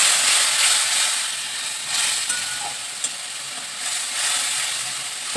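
Tomato puree mixed with dried chillies hits hot fried onions in a pan, giving a loud, steady sizzle with hissing steam and occasional stirring clatter throughout, no voices.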